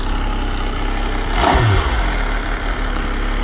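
An MV Agusta Brutale 800 three-cylinder motorcycle engine runs steadily close by, with one quick rev rising and falling midway through, no talk over it.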